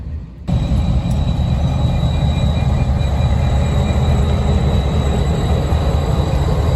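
An SD50 diesel locomotive in the Utah paint scheme rumbles past at night between Provo and Ogden, with a heavy, loud, continuous engine drone that starts abruptly and holds steady.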